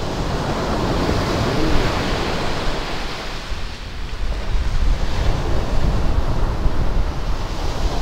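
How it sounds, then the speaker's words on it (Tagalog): Heavy ocean surf from large typhoon-driven waves at Baler roars continuously with broad, rushing noise and wind buffeting the microphone, no voices present. "So ang lalaki pa ng bagsak guys ng ano, alon, no?"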